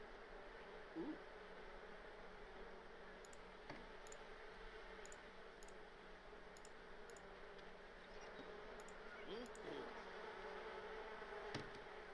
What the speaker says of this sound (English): Let's go ahead and tend to our bees out here